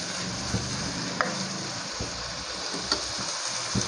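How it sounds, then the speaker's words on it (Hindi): Peshawari minced meat keema fries in a pan with a steady, close sizzle and occasional soft stirring scrapes, continuous with no talk. "इस तरह आप इसको फ्राई करते जाएं।"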